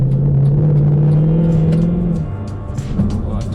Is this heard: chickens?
no